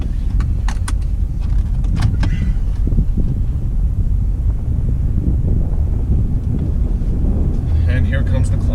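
An off-road vehicle crawls in four-wheel low on a dirt trail, its engine a steady low rumble close by, with wind buffeting and rattles, while people talk over it.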